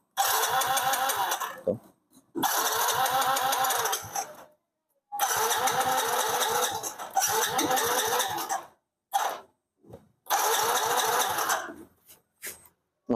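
Yamaha Mio GT scooter with a compression fault, cranked repeatedly in several bursts that catch into short rattly idling runs, separated by pauses, close up and fairly quiet.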